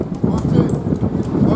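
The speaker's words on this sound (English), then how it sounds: "You could even take a horse carriage." Horse carriage hooves clip-clop on the streets of Cartagena's old walled city, a quick steady rhythm of hoof strikes close by throughout the short stretch, with a voice talking over it.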